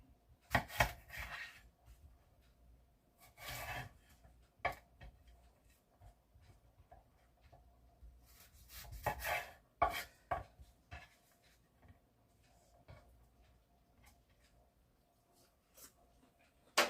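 Knife cutting through an apple on a board, with irregular clusters of crisp chops and taps separated by quieter gaps, near and fairly faint.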